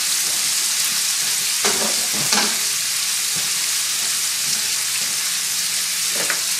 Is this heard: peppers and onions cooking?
yes